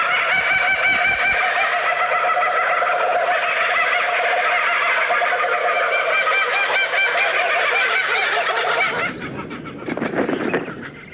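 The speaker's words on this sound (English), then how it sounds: "This chorus of raucous laughter from one group of kookaburras proclaims their territory to neighbouring clans." A group of laughing kookaburras calls together in a loud, raucous chorus of cackling, rising and falling in overlapping waves. Near the end the chorus shifts into harsher, choppier calls.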